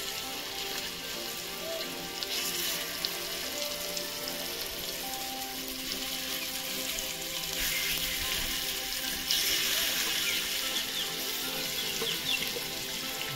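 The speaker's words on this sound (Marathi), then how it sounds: "पूर्ण अशी मच्छी ठेवलेली आहे. थोडा टाइम आता फ्राय होऊन द्यायचे." Whole shingada fish frying in hot oil with garlic, Agri style, a loud continuous hiss and sizzle close by that swells slightly now and then, with no talking.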